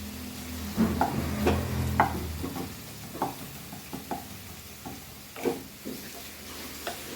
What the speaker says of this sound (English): Now we will add our ginger and garlic, which I have crushed.